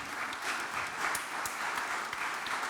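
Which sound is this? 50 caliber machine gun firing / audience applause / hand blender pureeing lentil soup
audience applause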